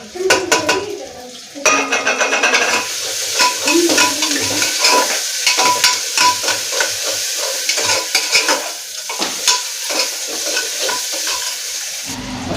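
Chopped onion and capsicum fry in hot oil in a pan with bay leaf, a steady sizzle running throughout while a spoon stirs and scrapes in repeated rhythmic strokes, with occasional clinks of metal against the pan.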